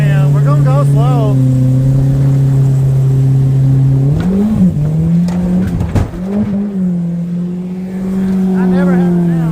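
An outboard motor pushes a boat hard with lots of throttle and trim on a rough ride to a catfish hole. It drones loudly and steadily close by, with its pitch dipping and surging midway and faint voices beneath.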